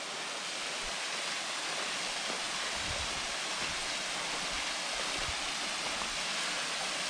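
A waterfall in a forest of the Vosges pours steadily, a dense broadband rush of falling water that stays constant and fairly loud throughout, with no talking.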